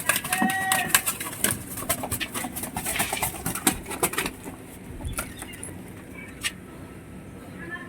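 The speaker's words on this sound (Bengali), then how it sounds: "এখন যেটা লোটাবো সেটা হচ্ছে ছেলে পায়রা" Pigeons in a loft, including a male, make soft scattered coos and rustles. Clicks and wing flaps are heard close by, with quiet background noise throughout.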